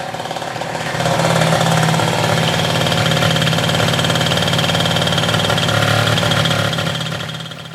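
An MBK Nitro scooter engine idling close by, a steady buzzing drone with a slight rise in level after the first second and a fade near the end.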